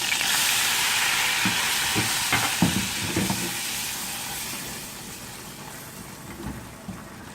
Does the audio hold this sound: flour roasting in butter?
yes